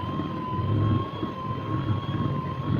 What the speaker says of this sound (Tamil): இது நான் லாஸ்ட்டாக ஒரு தடவை பீட் பண்ணிக்கிறேன்